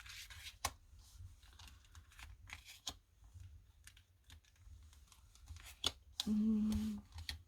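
Tarot cards being drawn and handled, heard as soft papery shuffles and light clicks and taps at a close, quiet level, ending in a brief louder rustle.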